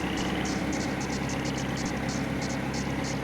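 Engine of a New Holland tractor in a farming simulation game, a loud continuous droning hum with a faint rhythmic pulsing on top, steady throughout with no talking.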